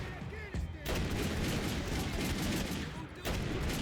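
Rapid sniper rifle gunfire in the video game Max Payne 3, dense loud shots bursting continuously across the clip with a brief pause near the end before firing resumes.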